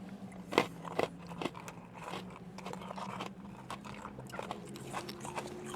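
Crunchy freeze-dried Skittles in a concrete mixer being chewed close up, with irregular crisp crackles and bites over several seconds and no talking.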